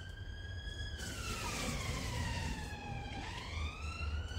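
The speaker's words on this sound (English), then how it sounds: "Sorry about the sirens." Emergency vehicle sirens outside, a wailing tone sweeping down and then back up, heard at moderate distance over a low background rumble.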